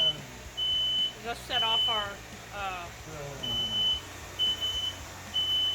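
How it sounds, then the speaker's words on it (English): Short, shrill electronic beeps from a smoke alarm repeat intermittently while people talk over them. "fire smoke alarm because there's so much dust in here"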